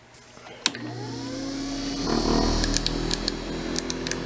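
Brushed electric motor of a bench grinding machine, unbalanced and fed through a 3 amp Variac, starts with a click and spins up into a steady loud whine and hum, with sharp metallic ticks scattered over it.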